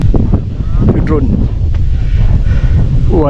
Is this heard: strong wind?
yes